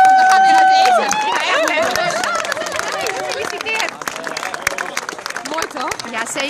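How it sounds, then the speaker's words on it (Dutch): A rowing championship crowd claps in a lively mixed round of applause, starting alongside a sustained tone and continuing under overlapping chatter and talk from people nearby. "Mag ik alsjeblieft nog een applaus voor de 3 mensen in het Roelbraas?"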